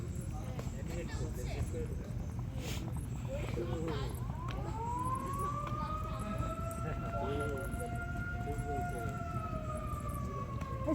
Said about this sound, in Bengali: সাইরেন দিচ্ছে কিসের?